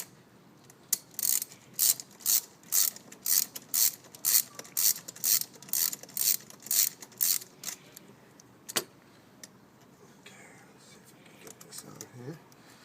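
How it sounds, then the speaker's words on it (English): Repeated clicking of an 11mm deep socket ratchet tightening a T-bolt clamp on an intake pipe, a steady run of about twenty close, crisp clicks, then quieter handling noise. "The T-bolt clamps use an 11mm socket"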